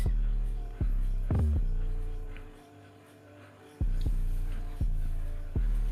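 An electric hair trimmer runs steadily close up during a fade haircut, a loud continuous low buzz that dips and surges as the blade moves across the hair.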